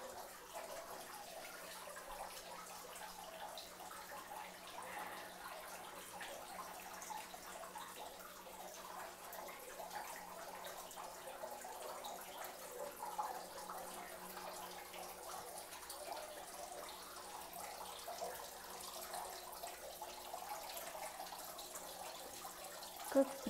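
Water murmurs softly in an indoor winter garden among flower arrangements, a faint, continuous trickle that is even and unbroken, with no one speaking.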